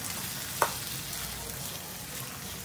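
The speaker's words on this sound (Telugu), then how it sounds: "కొంచెం ముక్కలు మెత్తబడేంత వరకు ఉడికించుకోండి ఆయిల్లో" Potato pieces fry in oil for an aloo curry, giving a soft, steady sizzle close by with one brief sharp pop early on.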